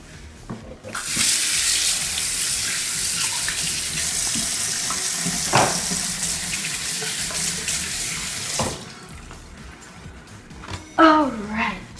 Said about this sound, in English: I'm gonna wash my hands really fast.